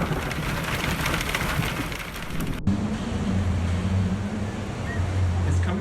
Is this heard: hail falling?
yes